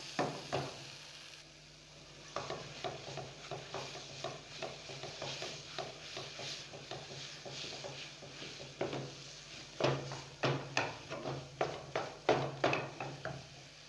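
Besan halwa roasting in a pan as a spoon stirs it in repeated scraping strokes, soft sizzling beneath, the strokes growing quicker and sharper toward the end, close up with no talking.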